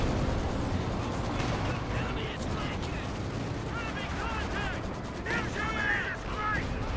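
Tank cannon and small-arms gunfire in Company of Heroes 2, a steady battle din of shots and crashes with voices talking over it throughout.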